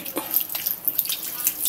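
Water is poured into a cooking pot for a Filipino vinegar-braised fish dish, giving a short, close splashing stream with a few drips and no talking.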